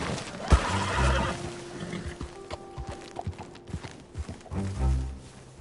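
In a PS4 video game, a horse gives a loud whinny up close, then its hooves clip-clop at a walking pace. A second neigh follows near the end.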